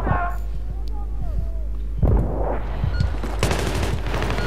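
Battlefield 3 game gunfire crackles in bursts of sharp shots over a low rumble, with a loud blast near the middle and denser firing toward the end, amid voices and game sounds.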